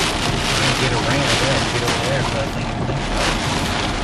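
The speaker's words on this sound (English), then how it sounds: "Still a little too windy back there." Steady, heavy hurricane wind roars across the microphone without a break, mixed with a broad rumble like water and a boat moving.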